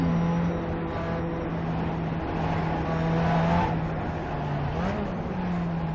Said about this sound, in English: we're just gonna let these cars by